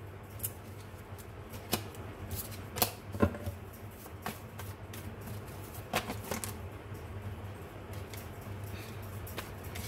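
Tarot cards being shuffled and drawn close by, with soft, scattered riffles and crisp flicks and snaps over a quiet low background hum.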